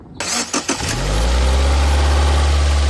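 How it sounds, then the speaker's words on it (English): A 2012–2016 Subaru Impreza starts up close by: a brief cranking whir catches, then the engine settles into a loud, steady idle rumble, with no talking. "I'm going to go ahead and start the car, let the engine cycle, and then we'll check the oil level."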